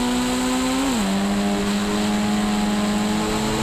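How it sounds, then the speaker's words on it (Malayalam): A car drifting on a road, its engine holding a steady high whine that dips once early and then stays level, loud and continuous with no voices over it. "നമുക്ക് റോട്ട് കൊണ്ടുപോയി ഡ്രിഫ്റ്റ് ചെയ്യാം."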